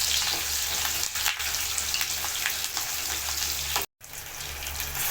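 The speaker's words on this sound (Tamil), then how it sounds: "இது எல்லாம் சேர்த்து நல்லா வதக்கிக்கலாம்." Onions and curry leaves sizzle and fry in a hot pan while being stirred, a constant close crackle with scraping stir strokes and one brief break in the sound.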